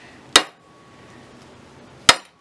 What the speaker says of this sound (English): you smack it out around with the hammer, just enough to dent it